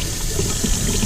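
Hot water running from a new bathroom faucet into a sink, a steady close rushing splash filling the brief moment without other sounds.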